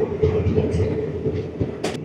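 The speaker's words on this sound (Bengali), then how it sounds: "আমাদের ট্রেন প্রায় পৌঁছে গেছে কোয়াসিগুন।" The Vistadome train on the Jammu to Srinagar line runs steadily near Qazigund, its wheels rumbling and clacking continuously, with a brief hiss near the end.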